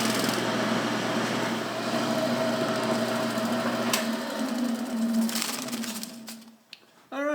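Wood lathe spinning a small elm bowl while a wax finish is applied: a steady motor whir and hum with rubbing friction noise, running continuously before spinning down near the end.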